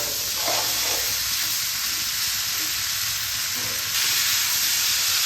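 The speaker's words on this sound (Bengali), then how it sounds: "এবার আমি আমলকিগুলো এই গরম তেলের মধ্যে দিয়ে দিচ্ছি" Amla gooseberries fry in hot mustard oil with a dense, loud hissing sizzle that stays nearly constant, brightening slightly near the end, with no speech.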